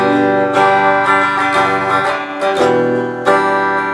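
A Schecter electric guitar on its clean setting rings out in bright, sustained chords and picked notes, strummed in several distinct attacks that let each one ring before the next, loud and close with no voices.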